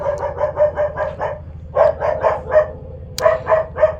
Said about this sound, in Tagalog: ang ingay ng aso, tahol ng tahol